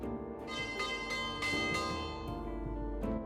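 Several bright, ringing strikes of a church-style bell in the Death on the Nile video game call lunchtime, each clang overlapping the last as it decays, heard on its own without talk.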